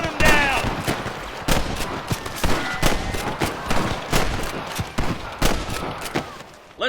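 Rapid volleys of gunfire from a shootout in the Western video game Red Dead Redemption, with dense, loud crackling shots and bursts repeating throughout, mixed with faint game voices and outdoor ambience.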